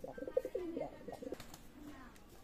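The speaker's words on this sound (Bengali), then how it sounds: "মাশাআল্লাহ কবুতর।" Pigeons coo softly in a series of low, throaty calls early on, faint and close, with a quiet background hum and no speech.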